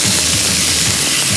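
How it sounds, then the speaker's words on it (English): Lamb meat sizzles and crackles as it fries and caramelizes in a pot, a loud, steady hiss with no breaks from start to finish and no voices over it. "when you fry your meat, it caramelizes. And when it does that, just hear that sizzle."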